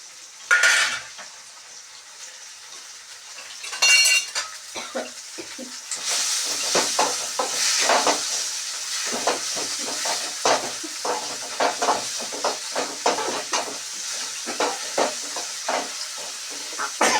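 Onions, tomato, coriander and curry leaves are stir-fried in a pan for tomato rice made from leftover rice. Metal spoon clatter and scraping run over a rising, steady sizzle that fills the back half. The cooking is close, with no talk.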